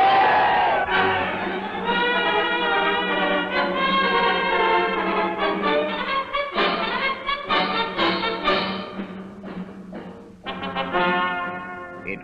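Large crowd at an Indonesian independence rally chanting and cheering, a dense roar of many voices with rhythmic shouted bursts rising and falling, loud and continuous throughout.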